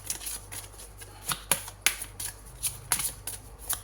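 Tarot cards being shuffled by hand, a run of crisp papery riffles and slaps in an uneven rhythm, close and clear with no talking over them.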